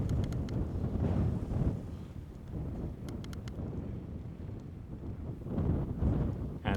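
Steady wind buffets the microphone outdoors during a drone flight, a low rumbling roar that swells and eases, with a few faint clicks in the background.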